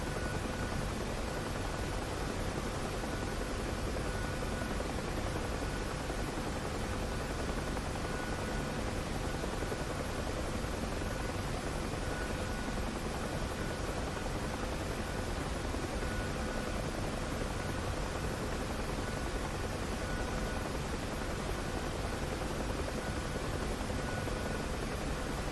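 A UH-1 Huey helicopter in the DCS flight simulator drones with a steady, unbroken rotor and engine roar, a constant broadband whine with faint tonal hum that holds level throughout without change.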